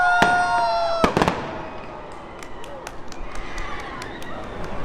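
Fireworks bursting at Knott's Berry Farm amusement park during its 100th anniversary, a quick cluster of sharp cracks and pops near the start followed by scattered fainter crackles against a steady outdoor crowd murmur.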